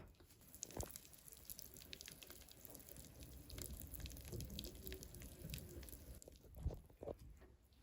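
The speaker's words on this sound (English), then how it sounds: "the water in the stuffing mix, it sounds just like Rice Krispies right now." Soft, continuous crackling and fizzing with scattered tiny pops as water soaks into dry stuffing mix, heard close and quiet.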